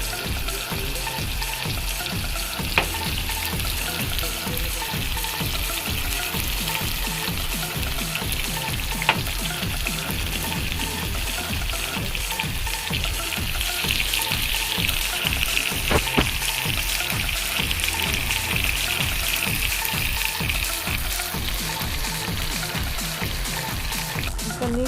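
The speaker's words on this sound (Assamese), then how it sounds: "পনীৰখিনি ফ্ৰাই কৰি হৈ গ'ল।" Paneer frying in a pan for a simple paneer dish, a steady close sizzle and crackle that runs without a break, with a few sharp pops and utensil taps and no talking.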